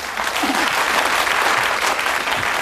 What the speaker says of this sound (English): that in itself would deserve a round of applause